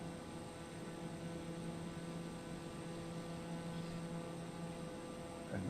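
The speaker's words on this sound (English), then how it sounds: "Noisy turboprop." A TBM turboprop in flight gives a steady, loud engine drone with a constant tonal hum throughout and no pauses, with a brief bump at the very end.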